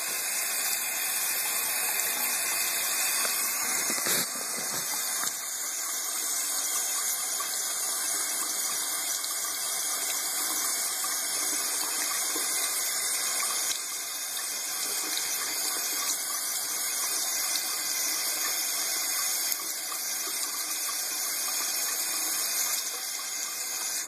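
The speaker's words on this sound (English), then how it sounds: "Okay, we'll turn on the water." Water runs steadily from a tap into a sink, a constant loud hissing splash that holds without pause from start to finish, with no talking.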